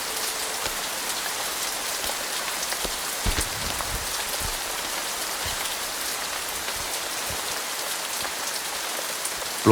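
Heavy rain pours steadily onto surfaces in an unseasonal winter downpour around a house in Kerala, a dense, continuous hiss of drops with a few louder spatters and no voices.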